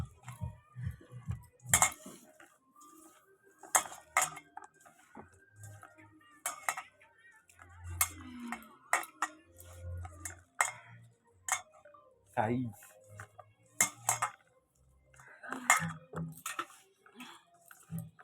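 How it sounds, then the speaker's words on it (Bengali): Chopped onion is mixed into mustard flower fritter batter in a bowl, producing sparse soft clicks and scrapes of utensil against the bowl in between stretches of talking. "পেঁয়াজটা দিয়ে ভালো করে এটা ভালো করে মেখে নিচ্ছি"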